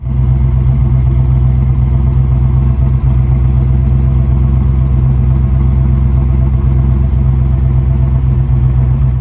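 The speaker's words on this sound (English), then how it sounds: "had a great sounding dual resonator exhaust system" A 1979 Pontiac Trans Am V8 idles throughout with a deep, steady rumble and a throaty low tone from its dual resonator exhaust, constant and close, no voices.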